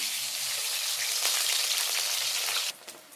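Dried palm fish frying in a pan, a loud close sizzle with rapid crackle that cuts off abruptly near the end, leaving quiet.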